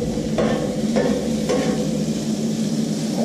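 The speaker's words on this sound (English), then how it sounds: "I'm going to go ahead and stir them a little bit" Home fry potatoes sizzle steadily in a hot pan while a utensil scrapes and stirs them in a few distinct strokes, close and alone with no talking.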